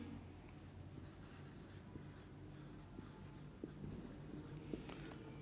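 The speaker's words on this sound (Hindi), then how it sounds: "मैं यहाँ पे लिख देता हूँ" Marker or chalk scratches faintly against a board as notes go up during a chemistry lecture, soft intermittent strokes over a low steady room hum with no talking.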